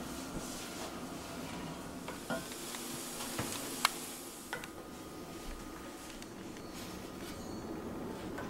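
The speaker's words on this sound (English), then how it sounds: "So I'm going to add my mushrooms." Mushrooms go into a pan of caramelized ingredients and sizzle softly and steadily, with a few light clinks and stirring scrapes over a quiet background.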